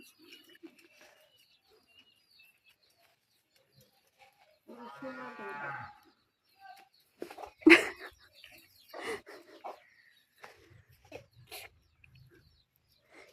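A cow gives one drawn-out moo near the middle, with a few quiet voices and soft rustles around it in an otherwise calm, quiet setting.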